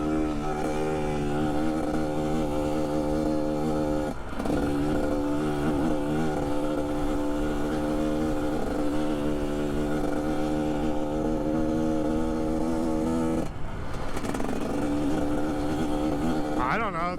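A 2021.5 GPX Moto TSE250R motorcycle engine drones loud and close while riding, holding a steady pitch with two short dips where the throttle drops before it climbs again.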